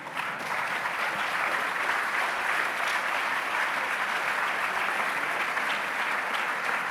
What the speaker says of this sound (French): Vous pouvez applaudir parce que c'est formidable.